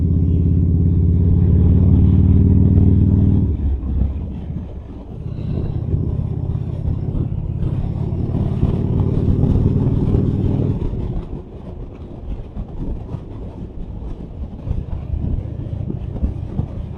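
Wind roar inside an ATLAS 3.0 helmet while riding a motorcycle on the highway: a loud, steady rushing noise with a low engine and road drone that shifts in level as speed changes.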